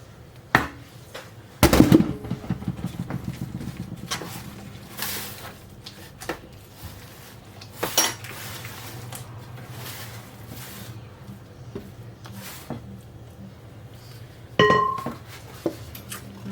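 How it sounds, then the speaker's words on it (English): A spoon or spatula scrapes and clinks against a mixing bowl, gathering the last of a Christmas fruit cake batter, with irregular knocks, scrapes and a few louder taps through a quiet kitchen. "Try to scrape every little last morsel."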